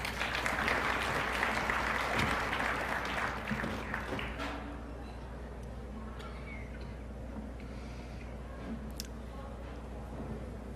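Audience applause at a DeepMind talk on safe artificial intelligence welcoming speaker Victoria Krakovna, a dense steady clapping that fades to a quieter room tone after about five seconds.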